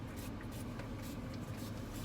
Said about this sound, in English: Spraying some Clorox on it